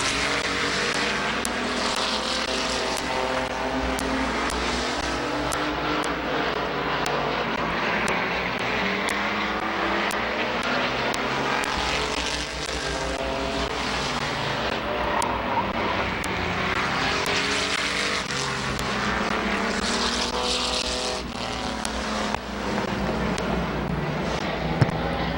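Race cars lap Midvale Speedway, a dense, continuous roar of engines that rises and falls as the cars pass, loud and unbroken for the whole stretch.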